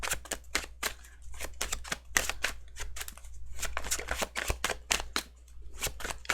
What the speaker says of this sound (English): I didn't mean to shuffle, but I am